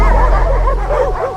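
Hunting dogs bark and yelp loudly in a quick, rising-and-falling series of calls, close and dominant over a low rumbling background.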